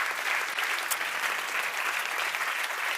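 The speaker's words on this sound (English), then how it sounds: "Give a round of applause for that amount" An audience at a science summit award ceremony applauds, a thick, even wash of clapping from a large crowd, sustained without pause.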